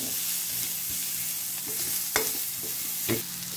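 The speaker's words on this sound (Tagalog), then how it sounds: "magigisa na tayo" White onions sauté in oil in a frying pan with a steady close sizzle, and a utensil scrapes and clacks against the pan now and then, with no talk over it.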